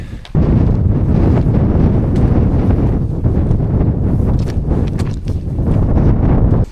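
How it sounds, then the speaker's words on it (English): Strong wind on a mountain roars and buffets loudly and continuously, heavy rumbling gusts battering the microphone with no voices heard. "It's windy up there."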